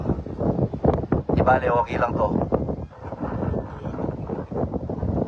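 Strong wind buffets the microphone in heavy, uneven gusts while someone talks over the roar.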